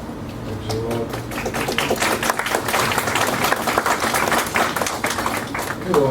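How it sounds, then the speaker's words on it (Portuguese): An audience at a spiritual gathering claps in sustained applause, a dense patter of many hands throughout, with faint voices mixed in. "Temos aplausos"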